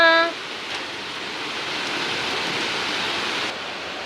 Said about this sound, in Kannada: ಮಳೆ ಬೀಳ್ತಾಯಿತ್ತು ಇಷ್ಟೊತ್ತು ಸೌಂಡು ಜಾಸ್ತಿ